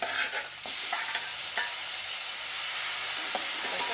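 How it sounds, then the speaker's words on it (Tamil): Onions, dried red chili and small tomatoes sauté in a pan with curry leaves, a steady broadband sizzle with a few stirring scrapes and clinks, close and continuous with no talking. "வெங்காயம் வதங்கி வர நேரத்தில் ஒரு காஞ்ச மிளகா போடுறேன்"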